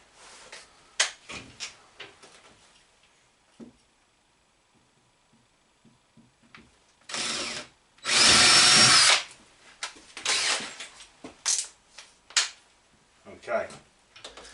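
Power drill driving screws into a lathe storage build, several short bursts of whirring with a long loud run in the middle, separated by quiet handling clatter and knocks of wood.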